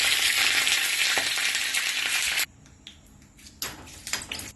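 Mustard seeds, urad dal, a dried red chili and curry leaves sizzling in hot coconut oil for tempering, a loud dense crackle that cuts off abruptly midway, followed by quieter scattered pops and bursts of sizzle.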